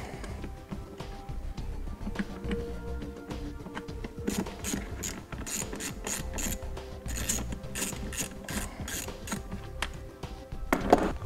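A Torx T25 bit and driver remove an interior cab panel on a 2014 Mercedes van, giving a long run of clicking ratchet and scraping mechanical sounds, near and moderate in level, ending in a sharp rattle.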